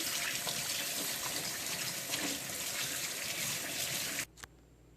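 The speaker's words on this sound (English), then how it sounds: "here are the ribs that we just rinsed out of its impurities" Tap water runs steadily over beef ribs being rinsed in a sink for pho broth, a close, full splashing stream that cuts off abruptly near the end, with no talking.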